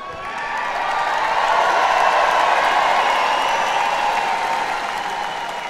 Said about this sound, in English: You deserve that round of applause, Rebecca.